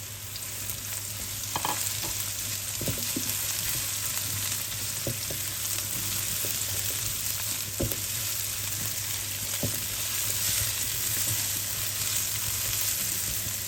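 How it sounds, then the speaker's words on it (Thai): Eryngii mushrooms are stir-fried in a pan with chili and garlic, giving a steady sizzle with occasional clicks and scrapes of a spatula, and no talk. "ผัดให้มีกลิ่นหอม จากนั้นใส่เห็ดลงไปเลยค่ะ"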